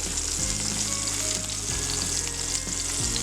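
Aloo tikki potato patties fry in an oiled pan with a loud, steady hiss and crackle that fills the whole stretch, with a few soft low knocks underneath and no voices.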